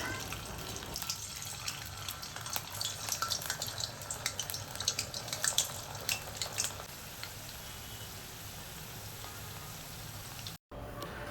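Battered gobi (cauliflower) deep frying in hot oil: a steady, rain-like hiss and crackle of bubbling oil with scattered pops, close and continuous, with faint voices in the background.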